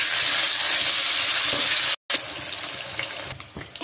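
Pieces of chicken sizzle loudly in hot white oil in a wok while a chicken egg chowmein is cooked, a steady broadband hiss that cuts out briefly halfway, then resumes slightly quieter with occasional crackles.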